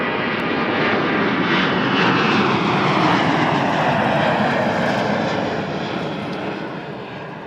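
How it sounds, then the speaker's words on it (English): A fixed-wing airliner takes off at Toronto Pearson Airport on a November night, its engines a loud, sustained broadband roar that holds steady and then slowly fades as it climbs away. "And a takeoff."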